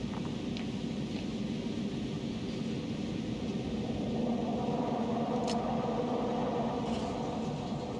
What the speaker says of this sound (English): I'm climbing onto the hovering transporter.